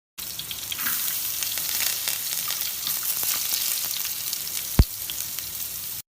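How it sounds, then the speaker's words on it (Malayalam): Green chili and ginger fry in hot coconut oil with mustard and fenugreek seeds, giving a steady sizzle and crackle throughout with one sharp knock or clatter late on. "ഇപ്പം ഞാൻ ഇടാൻ പോകുന്നത് വെച്ചാൽ പച്ചമുളകും ഇഞ്ചിയാണ് കേട്ടോ."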